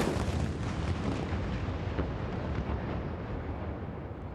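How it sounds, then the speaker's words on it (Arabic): Ramadan cannon firing at sunset for the breaking of the fast, a loud booming roar with a long rumbling, wind-buffeted tail filling the whole stretch, no voices. "وبعد انتظار دام خلال فترة النهار انطلق مدفع رمضان."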